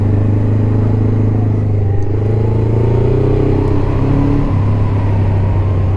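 A motorcycle engine hums loud and close while riding through a string of bends, its steady drone rising and falling in pitch as the throttle changes, with wind noise underneath.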